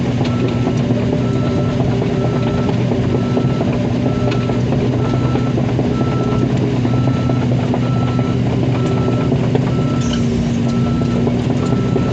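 A dump truck maneuvers at a levee road repair site, its engine rumbling steadily and loudly while reversing beeps repeat in an even rhythm throughout.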